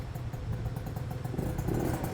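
A Yamaha BWS 50 scooter with Stage6 power parts idles while warming up, a steady low rumbling putter with light mechanical clatter that grows slightly louder toward the end, close by and without speech.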